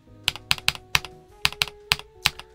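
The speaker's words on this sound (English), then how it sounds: "for a stock keyboard, it sounds surprisingly well" Rapid, crisp keystrokes on a stock Ajazz AK873 TKL mechanical keyboard, a steady run of close, sharp clicks in an irregular rhythm with no talking.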